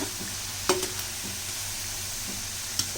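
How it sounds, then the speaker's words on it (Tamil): Raw banana kola balls frying in hot oil are stirred around the pan, a steady soft sizzle with a few brief scraping clinks of the spoon, close and moderately quiet, with no talking. "இப்போ நம்ம இந்த உருண்டையெல்லாம் நல்லா கிளறி விட்டு இருக்கோம். சுற்றி கிளறி விட்டுட்டே இருக்கணும்."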